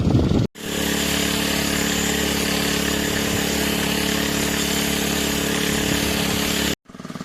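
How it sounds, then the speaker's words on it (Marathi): A motorized pesticide spray pump runs on a farm while spraying seedlings, a loud steady two-stroke engine drone, close and alone, with short breaks at the start and end. "आता रोपाला औषध पंप आणला भरून आपण करू सुरुवात"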